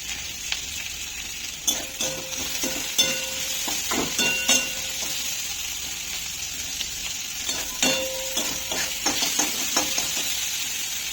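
Garlic and spices frying in a pan for Bengali dal, a steady hiss of sizzling oil with scattered scrapes and clinks of a spatula stirring, close and continuous.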